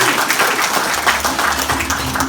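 Applause from an audience at an Indonesian leadership seminar, a steady dense wash of clapping filling the whole stretch, with voices murmuring faintly underneath.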